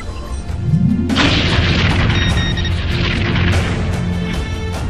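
Artillery firing at point-blank range in a sci-fi space battle: a loud, sustained booming roar that surges in about a second in and rumbles on continuously with crackling blasts, a rising whine sweeping up beneath it.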